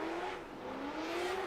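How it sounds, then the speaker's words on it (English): A BMW F22 drift car with a V8 revs hard at a drift championship qualifier, its engine note sliding upward in a loud sustained scream with tire noise underneath. "Listen to the screams of this car. V8 absolutely singing underneath the bonnet of that."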